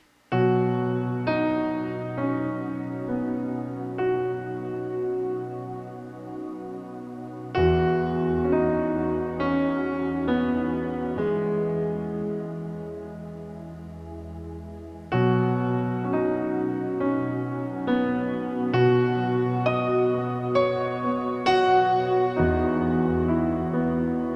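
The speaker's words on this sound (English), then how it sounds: "The first one here is the piano worship one" Worship piano patch on a Nord Stage 4 keyboard, layered with soft pads: sustained chords ring out in three long phrases, each struck fresh and left to decay, played alone with no voices.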